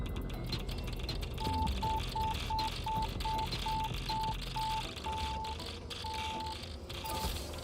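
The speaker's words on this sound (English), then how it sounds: "I've never heard it actually beep at me for being too radioactive." In the Satisfactory video game, a radiation warning beeps rapidly and evenly about ten times in a row, then slows to a few spaced, longer tones, sitting over a busy background of game ambience.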